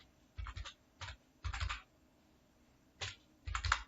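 Keystrokes on a computer keyboard while coding Python come in five short, quiet bursts of rapid clicks separated by brief pauses, close but faint.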